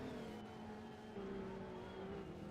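A Twin Turbo V6 race car engine drones at redline in the GTI race at Lakeside Castle, a steady, distant high-revving roar that holds its pitch throughout.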